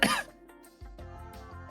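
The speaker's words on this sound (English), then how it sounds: "all I wanted you to do is just make a cough sound." A single short cough at the very start, close and fairly sharp, followed by a faint synthetic tone and soft low sounds.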